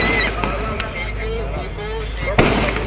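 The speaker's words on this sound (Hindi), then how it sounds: "एक के बाद एक 60 साउंड और साथ में आतिशबाजी भी" Fireworks burst at the Dewa Sharif fair, a 60-shot multi-shell display, giving sharp booming cracks at irregular intervals over a dense rumbling crowd, with a voice talking throughout.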